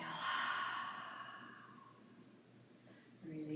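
A long, audible exhale during a seated chair yoga breathing exercise, breathy and soft, fading out slowly before a voice briefly begins speaking at the end.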